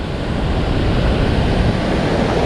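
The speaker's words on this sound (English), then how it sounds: "Here we have" The Lewis River Falls waterfall rushing at a campground, a loud, steady, broadband roar heard close up with no gaps and no voices.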